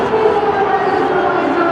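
A vast crowd of around 120,000 cricket supporters at an India versus New Zealand final roars in a dense, continuous wash of cheering and shouting, loud and steady throughout.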